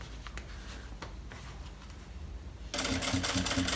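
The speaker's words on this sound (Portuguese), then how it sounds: "vou passar agora a costura aqui, num ponto grande, pra abaixar, assentar toda essa costura aqui" Sewing machine running a long topstitch with a large stitch length on a luxury backpack, a quiet rustle of handling before a steady, fast mechanical whir kicks in for the final second, close and alone.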